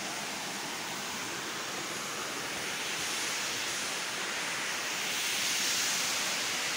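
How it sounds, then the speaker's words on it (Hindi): Steady roaring rush of a waterfall in the Himachal mountains, a dense continuous wash of falling water that swells slightly louder toward the end, with no voices. "क्या खूबसूरत झरना है देखो"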